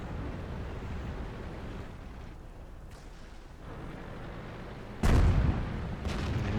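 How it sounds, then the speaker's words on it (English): Artillery fire in the tank game World of Tanks: a single heavy, booming blast lands near the end, rising from a steady low rumble of engine and battle noise. "I'm already getting shot at by artillery"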